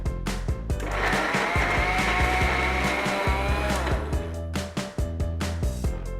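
An electric grinder whirs loudly and steadily while blending cooked onion, tomato, garlic, ginger and cashew into a smooth paste, with short pulses and stops toward the end.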